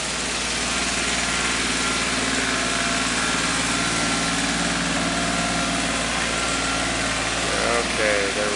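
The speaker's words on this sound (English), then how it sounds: "I've got a tractor going by me in the background here" A tractor engine chugs past outside, a steady loud mechanical drone that holds throughout and swells slightly toward the end, with a faint voice underneath.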